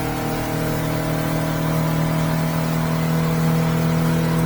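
A Yamaha F150 outboard pushes a 2023 Hewes 210 Searunner boat at planing speed, its engine a loud steady drone with a strong tonal hum that rises slightly as the motor is trimmed up, no voices.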